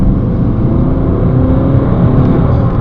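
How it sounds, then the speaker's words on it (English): A 2011 BMW 320d diesel saloon rounds a tight corner, its engine and road noise forming a loud, steady low rumble from inside the cabin with no voices. "Just going around a tight corner now, and the car isn't even leaning."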